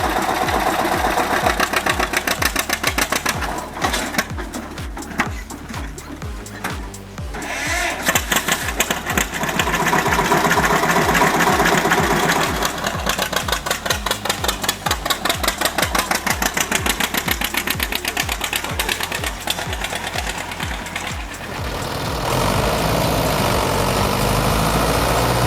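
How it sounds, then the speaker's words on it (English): An old 1952 tractor engine runs steadily with a loud, rapid chugging beat, stuck in mud, its tone shifting and rising in bursts before settling into a smoother idle near the end. "The engine growls like it means business."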